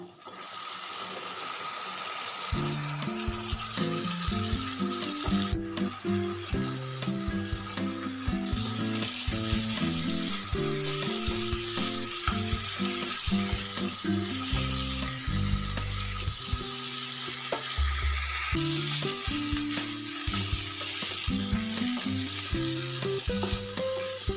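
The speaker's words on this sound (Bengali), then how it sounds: "এবার আমি দিয়ে দিচ্ছি সেদ্ধ করা কাবলি ছোলা।" Boiled chickpeas going into a pan where paste-ground chicken, onion, garlic and ginger are already frying, giving a steady close sizzle with stirring and scraping clatter throughout, no voices.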